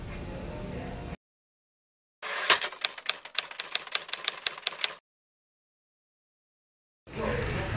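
Typewriter keys struck in a quick burst of about a dozen sharp clacks, the typing of a proclamation text in a historical Indonesian drama set in 1945, heard alone between stretches of silence and room noise.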